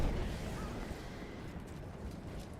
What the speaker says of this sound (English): it would not cause an explosion like that